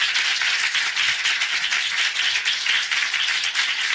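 A church congregation claps during a Sunday morning service, a loud, sustained burst of many hands clapping together with a slightly rhythmic pulse throughout.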